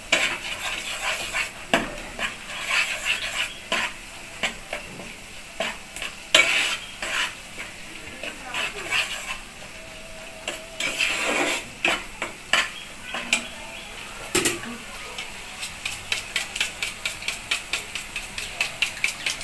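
A spice paste with yogurt for a chicken roast is sautéed in a pan, heard as repeated scraping stirring strokes over a faint sizzle, quickening into rapid rhythmic strokes near the end.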